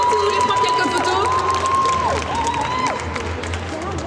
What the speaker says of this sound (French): On peut les applaudir encore bien fort.